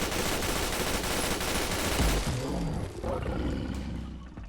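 Fully automatic Tec-9 with an upgraded receiver firing in Fallout 4, a dense, loud stream of rapid shots for about two seconds, then continuing more raggedly and fading slightly, with no talking.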